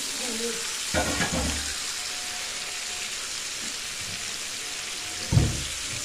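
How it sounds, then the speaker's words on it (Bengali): Sole fish being stirred into a frying spice gravy makes a soft, continuous sizzle, with two brief bursts of stirring and scraping, one early and one near the end. "মাছগুলো দিয়ে ভালোভাবে গ্রেভির সাথে কিন্তু মিক্স করে দিতে হবে।"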